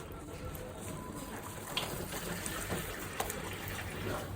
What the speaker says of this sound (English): Add some more water.